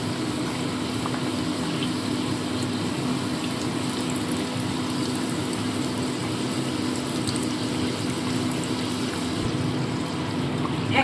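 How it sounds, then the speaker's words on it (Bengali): Dal puri deep-frying in hot oil over reduced heat: a steady, close bubbling sizzle that holds level and continuous throughout, with no voices. "কমিয়ে দিয়ে এবার এক এক করে তেলের মধ্যে ছেড়ে ভেজে তুলে নেব।"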